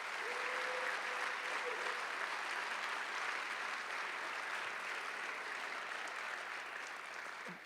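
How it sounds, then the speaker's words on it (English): An audience at a city State of the City address applauds city council members with sustained, even clapping that fills the room for several seconds and tapers slightly at the end. "let's give another round of applause to my colleagues"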